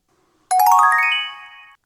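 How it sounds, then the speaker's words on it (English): A phone ringtone goes off suddenly and loudly, a bright chiming melody of bell-like tones that sustains for over a second before fading out, with no talking over it. "And my phone's gone off."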